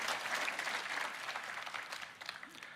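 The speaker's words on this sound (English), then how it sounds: "I want to give them a round of applause" Audience applause at a Roblox keynote event, a continuous wash of clapping from a crowd, moderately distant and fairly quiet, fading slightly toward the end.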